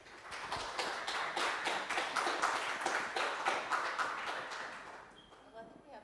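An audience claps for the panelists at a panel discussion, a dense burst of steady applause that builds, holds, then tapers off into scattered claps near the end.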